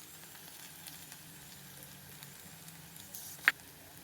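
Crushed ginger and garlic frying in a pan for Kerala-style sardine curry, a soft steady sizzle with one sharp clink near the end.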